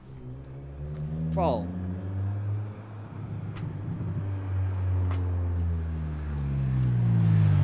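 A Honda TSX fitted with an Injen cold air intake revs hard in first gear toward VTEC, its deep, steady engine drone swelling and rising in pitch near the end, close by, with a brief spoken word early on.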